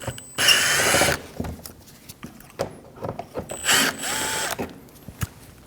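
A power driver backs T25 screws out of the bumper of a 2012-2022 Volkswagen Passat: two loud, close whirring bursts separated by ratcheting clicks and tool-handling knocks.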